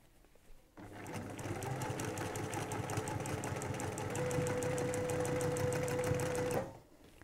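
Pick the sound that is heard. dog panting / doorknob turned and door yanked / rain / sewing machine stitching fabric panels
sewing machine stitching fabric panels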